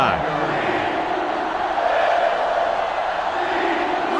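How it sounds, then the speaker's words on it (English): Stadium crowd roaring in a sellout game of NCAA Football 06 between Georgia and South Carolina, a dense continuous wash of cheering and noise holding steady throughout. "This sellout crowd is really making a difference now as these guys can't even call the play"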